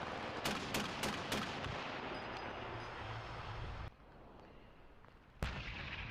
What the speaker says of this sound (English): Shoot the missile!